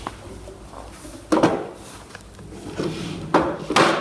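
Drawer boxes slide onto Blum Tandem runners inside a cabinet, making a few close wooden knocks and sliding thumps at uneven intervals, with no voices.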